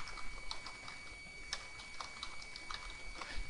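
Soft keyboard clicks come in quick light bursts under a faint steady hiss, with someone typing on a computer keyboard close by.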